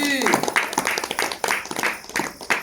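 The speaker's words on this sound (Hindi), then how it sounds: "ताली बजाए जोर से" Loud, sustained applause from a congregation during a Hindi-language church sermon, dense rhythmic clapping filling the whole span with strong pulsing beats.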